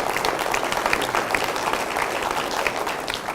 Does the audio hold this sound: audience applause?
yes